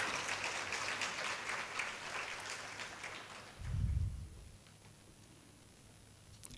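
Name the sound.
audience applause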